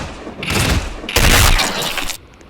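Two loud, close bursts of rapid gunfire from the Roblox game Dead Rails, each lasting under a second with a short gap between, booming and harsh.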